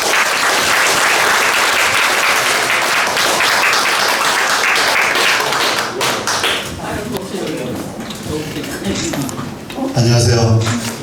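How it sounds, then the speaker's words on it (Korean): Big applause from the audience at an author's book concert and lecture, loud sustained clapping for about eleven seconds, with voices and some thumps rising near the end. "진짜 큰 박수!"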